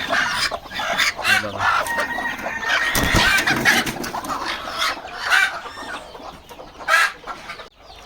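Desi hens cluck continuously nearby amid other fowl noises on a poultry farm with newly hatched chicks, a busy farmyard chatter with occasional louder calls.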